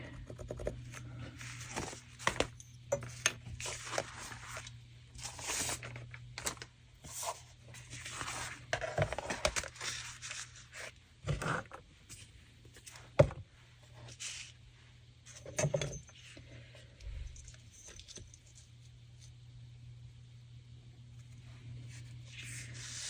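Canvas fabric being cut by hand for a junk journal fabric topper, heard as short, close scratchy snips and rubs in irregular bursts over a steady low hum, with no talking.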